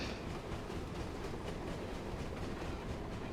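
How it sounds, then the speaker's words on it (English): A train in a video game rumbles past with steady rolling noise and faint rhythmic clatter, fairly quiet and with no voices. "It's a train! It's just gonna speed away."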